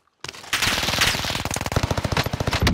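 Loud, close automatic rifle fire from an M4A1 in Warzone Pacific on the Caldera map, a rapid rattling burst that continues almost without pause after a brief first volley.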